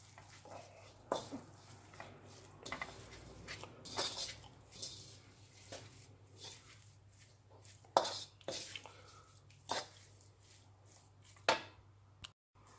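Plain flour is stirred into a chilli mix, giving quiet scraping and scattered clinks of a spoon against the pan, with a few sharper knocks, soft and intermittent.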